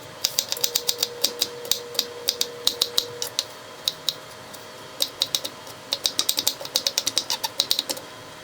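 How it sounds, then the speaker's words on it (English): A knife minces fresh garlic on a cutting board: rapid, crisp chopping taps in uneven bursts, close and distinct, with brief gaps between flurries and a faint hum underneath. "we're going to mince up some fresh garlic"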